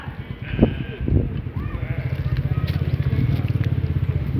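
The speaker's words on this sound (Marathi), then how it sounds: "हे आमच्या इथं आज मेंढर आलेत बघा शेळ्या पण आहेत मेंढर पण आहेत" Sheep and goats bleat a few times nearby while a steady engine-like pulsing rumbles underneath and people speak briefly.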